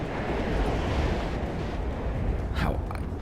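A missile strikes a vehicle in the WARNO strategy game, producing a deep, rumbling blast that roars at close range and then fades, with a quick whooshing sweep near the end.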